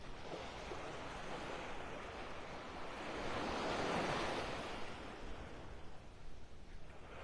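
Surf rolls in at Vanderbilt Beach in North Naples, Florida on a quiet morning, a soft continuous wash of waves with wind noise, swelling to a broader crash midway before easing.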